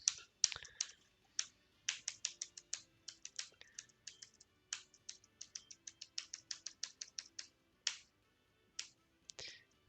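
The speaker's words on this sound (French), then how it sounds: "Je crois que vous m'entendez matraquer mon clavier." Rapid, sharp clacking of computer keys being struck hard in uneven bursts, close up and crisp, with no voices.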